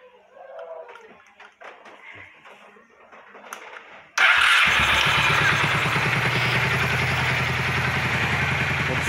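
Quiet clinks and handling noises in a workshop, then a Honda Shadow VT 600 motorcycle engine with a leaking gasket suddenly fires up and keeps running at a steady, close, rattling idle.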